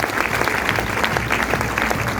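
An audience gives loud, sustained applause, many hands clapping in a dense, steady roar from start to finish.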